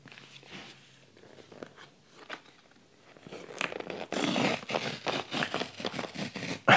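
A package being unwrapped by hand, quiet rustles at first building into loud, close tearing and crinkling of wrapping in quick bursts.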